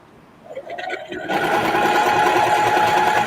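A sewing machine stitches a reversible bucket hat, starting with a few slow manual stitches and then running into a loud, steady, close whir of fast continuous stitching.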